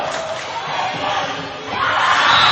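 A home crowd at a college volleyball match between Earlham and Muskingum roars and cheers steadily, swelling louder toward the end, with shouts mixed into the din.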